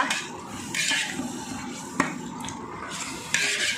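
Large pot of Andhra-style mutton pulao being stirred, a soft scraping, swishing churn with two sharp metallic knocks against the pot, close and continuous with no talk.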